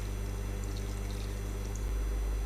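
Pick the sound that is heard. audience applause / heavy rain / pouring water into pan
pouring water into pan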